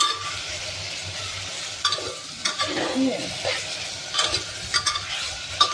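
Marinated mutton fries and sizzles in a pan with a steady hiss, broken by several sharp scraping stirs and clinks of a spoon against the metal, close and moderately loud.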